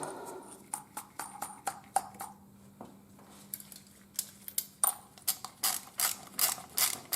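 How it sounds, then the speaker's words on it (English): Ratchet wrench spinning a nut back onto a plastic John Deere fuel filter housing, a close series of quick clicking bursts, sparse at first and then faster and louder. "And then we run our nut back on."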